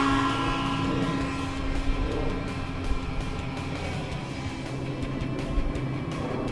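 A Great Planes Cirrus SR22T RC model airplane flies inverted, its electric motor and propeller giving a steady, moderately distant drone that swells slightly at moments, with no talking.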